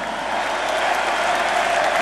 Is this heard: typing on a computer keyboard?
no